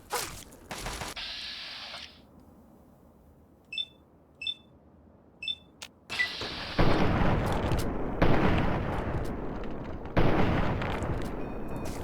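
A damaged hunting rifle in Fallout 3 fires several loud, close shots a second or two apart, each with a booming echoing tail, after a quieter stretch with a few short electronic beeps.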